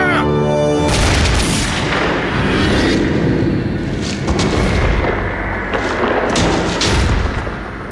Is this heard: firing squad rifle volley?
yes